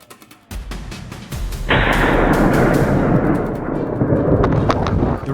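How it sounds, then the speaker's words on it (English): Several consecutive gunshots ring out during a wild boar hunt in woodland, loud sharp cracks that quickly merge into a dense, sustained roar of rapid gunfire with echoing rumble lasting several seconds. "I kept a close eye and fired several consecutive shots"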